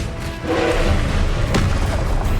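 A Confringo blasting spell explodes in the Hogwarts Legacy video game, a loud, dense boom that swells and holds across the moment with a sharper burst partway through, thick low rumble throughout.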